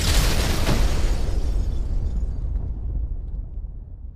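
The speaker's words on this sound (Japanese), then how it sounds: "爆音と同時にものすごい風圧それを全身で感じ取ったところで僕は気を失った" A grenade detonates in a cramped space in the PS3 horror game Shin Kamaitachi no Yoru, one loud close boom that rolls off into a fading rumble over about four seconds.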